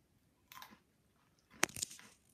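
Two crisp crunches of someone biting into a crunchy hot chili snack, close up, separated by a short quiet pause.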